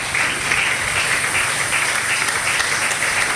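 A church congregation applauds the Lord, a dense, loud, sustained wash of clapping from many hands filling the hall without pause.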